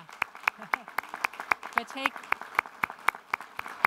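Clapping from an audience at a policy think-tank's annual conference, with sharp, evenly spaced claps close to the microphone and a voice briefly speaking over them.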